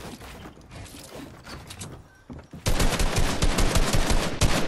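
Gunshots in Fortnite, a rapid loud burst of close automatic fire that starts abruptly partway through after softer, scattered game noises and continues steadily to the end.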